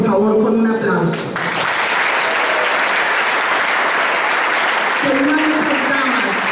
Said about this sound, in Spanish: pido en este momento que las honremos, por favor, con un aplauso